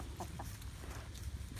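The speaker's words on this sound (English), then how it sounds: "That little black and white hen over there that's eating" A small black and white hen gives a couple of short, soft clucks close by over a low rumbling outdoor background.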